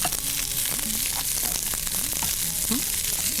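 Diced red, green and yellow bell peppers sauté in a hot pan, giving a dense, steady sizzle close up with faint stirring scrapes underneath and no talk.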